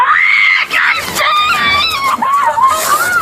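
A woman screams after being pepper sprayed while being pinned to the ground during an arrest, with loud, close, wavering wails and a background commotion.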